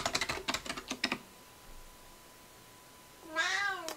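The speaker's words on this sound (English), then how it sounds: "I have to type in my password." Quick, close keystrokes on a computer keyboard rattle in a brief burst during password entry, then stop; after a near-silent pause, a cat lets out a loud meow.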